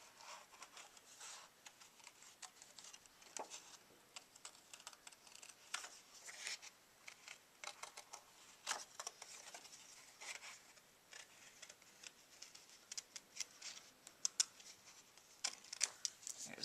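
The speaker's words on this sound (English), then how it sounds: "I'm going to take my scissors and I'm going to just cut these out." Quiet, irregular snipping and paper rustling, close up and soft, with small sharp clicks scattered through a long stretch without talk.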